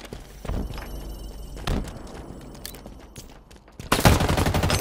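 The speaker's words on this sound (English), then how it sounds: "Taking fire." Halo Infinite gunfire crackles in a few sharp bursts, with a louder sustained volley at the end, amid faint game background noise.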